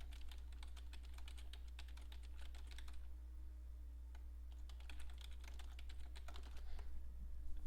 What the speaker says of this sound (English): this is where you do your typing